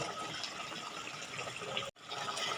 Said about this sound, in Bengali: আমার ঝোলটা ফুটে উঠেছে